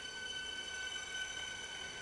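A train pulls away from a station platform, heard as a faint, steady high metallic whine and wheel squeal over a soft rumble, with no talk.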